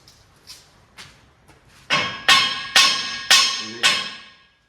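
Several sharp metallic hammer strikes driving a part into a trailer, a few light taps followed by five loud ringing blows in a steady rhythm, close by.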